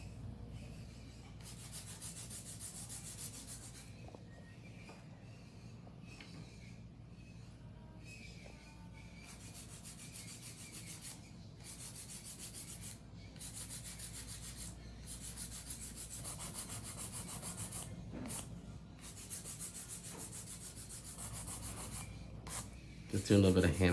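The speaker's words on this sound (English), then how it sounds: "Just doing a little bit of hand filing right here." Steady scratchy rubbing of a hand file smoothing acrylic nails during a manicure, continuous close strokes at an even level with a brief louder burst at the very end.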